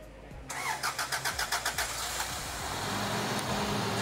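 A car engine fresh from a valve cover gasket replacement, fuel injector cleaning and throttle body cleaning is cranked with a quick run of starter pulses, then catches and settles into a steady, close idle.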